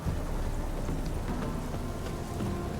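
Steady thunderstorm rain in The Witcher 3, a continuous dense hiss of rainfall with faint rumbling underneath, no voices.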